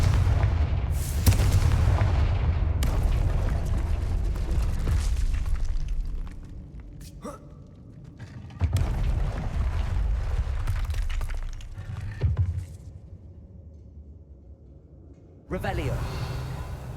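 Blasting-spell explosions in Hogwarts Legacy land as loud, booming bursts with crashing debris, several heavy impacts separated by quieter stretches, and a short spoken word sits among them.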